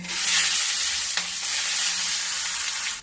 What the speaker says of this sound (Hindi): देखो मैं प्याज डाल दी हूँ। अब इसी तरीके से मीडियम लो में भूंजूंगी